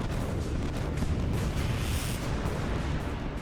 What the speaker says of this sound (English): More and more Austrian cannon are pulled up and begin to pulverize the French line.